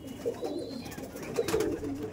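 Green Madras pigeons, an old Kolkata breed, coo in low throaty bursts, several birds overlapping close by with a slight swell near the end.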